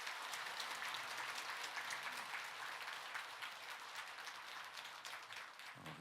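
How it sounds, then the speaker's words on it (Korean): An audience applauds at a Buddhist dharma talk held by monks from a temple in Samcheok, Gangwon Province, producing steady, dense clapping throughout that eases slightly toward the end before cutting off. "우리 스님과 사부대중께 큰 박수 부탁드리겠습니다."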